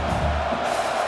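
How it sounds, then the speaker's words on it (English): A stadium crowd in EA Sports College Football 26 keeps up a steady, dense roar of cheering for the whole brief moment, loud and continuous, with no talking over it. "This crowd even louder now on second down as they try to hold on."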